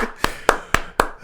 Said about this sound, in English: Can people tell that I was clapping for myself?